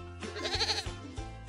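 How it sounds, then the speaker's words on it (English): Goat bleating as a farm-animal example, two or three wavering bleats in quick succession, close and clear with no talk. "goat"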